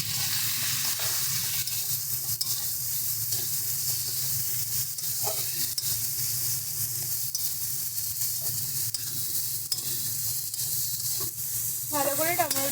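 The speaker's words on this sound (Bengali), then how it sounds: "চলো এবারে দিয়ে দিচ্ছি কেটে রাখা টমেটো।" Chopped tomatoes sizzle steadily in hot oil and frying spices for a fish curry, with a constant loud frying hiss and occasional spoon stirring scrapes close by.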